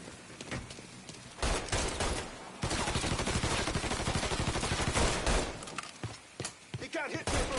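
Shootout in the video game Mafia 3: loud, rapid bursts of automatic gunfire and repeated single shots, near and dense, with short lulls between volleys.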